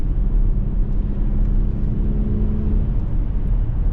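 A 2024 Volkswagen Atlas SEL Premium R-Line taking tight bends, giving a steady low engine and road rumble with a faint whir, close and continuous, no talk.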